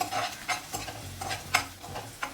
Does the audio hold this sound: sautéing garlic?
yes